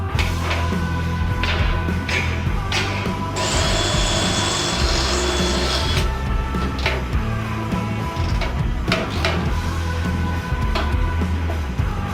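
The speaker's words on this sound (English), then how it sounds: "having to drill into my fender" A power drill whines steadily at close range while drilling into a Softail motorcycle's fender, rising to a higher-pitched grind for a few seconds in the middle, with scraping and handling noises throughout.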